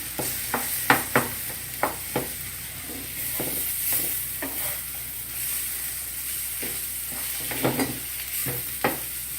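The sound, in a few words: mixing ragi sweet ball mixture with salt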